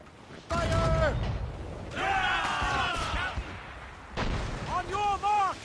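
Ship cannon fire in the video game Assassin's Creed Rogue: three heavy booming volleys a second or two apart, each mixed with loud shouting voices.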